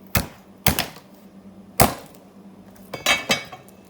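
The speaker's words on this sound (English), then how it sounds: "I'm just going to be taking my cleaver and smashing them" A cleaver smashes garlic cloves on a cutting board before peeling: five or six sharp, loud thwacks at uneven intervals, close by, with quiet pauses between.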